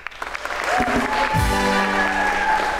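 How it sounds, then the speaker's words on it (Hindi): A television talk show studio audience claps for themselves, steady broadband applause swelling after a brief start and holding loud throughout, with a musical sting and tones rising over it. "एक बार तो आप सब अपने लिए तालियां बजाएं"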